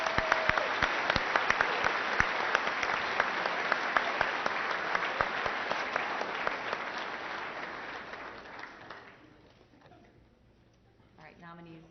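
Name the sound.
audience applause for nominees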